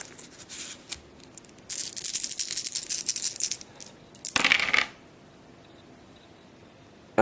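Fight dice for the Last Night on Earth board game rattle and clatter across a table in a couple of bursts, the second sharper and louder, with quiet gaps between.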